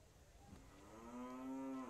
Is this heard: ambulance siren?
no